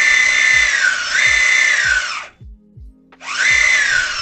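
Electric skateboard motors driven by VESC controllers spin up under throttle with a loud, high whine that rises and wavers, cuts out briefly for about a second, then whines up again, over a rhythmic low ticking.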